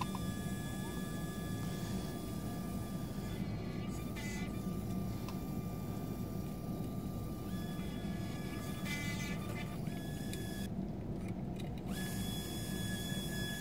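A power tool cuts mortises into oak table legs, giving a steady close mechanical whine and hum that runs unbroken throughout, with its pitch shifting slightly now and then.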